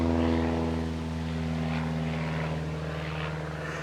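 A low-wing single-engine propeller airplane banks tightly overhead, its steady droning hum with strong engine harmonics loud and close throughout, no talking.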